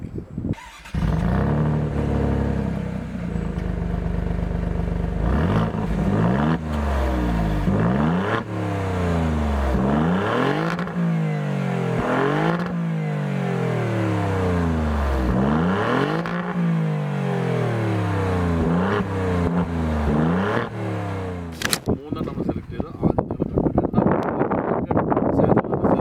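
An Alfa Romeo Giulia Quadrifoglio sedan's engine roars loudly through repeated rising revs and gear changes, close and sustained, with heavy wind buffeting the microphone and a sharp crackle near the end.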